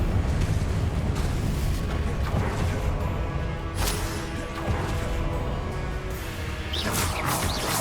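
Spell combat in Hogwarts Legacy, with a Confringo blast among steady crashes, whooshes and booming impacts that run loud and continuous throughout, with no talk.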